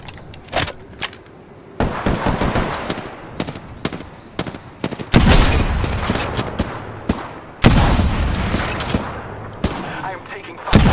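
Rapid automatic gunfire in the Apex Legends video game crackles in repeated bursts and single shots, loud and close, with brief lulls between volleys.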